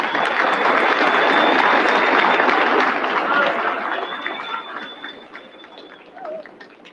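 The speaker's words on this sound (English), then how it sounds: "Stand up, give them a round of applause." Large graduation ceremony crowd for a corps of cadets applauding in a broad, sustained wash that slowly fades, with voices and a high steady tone over the top.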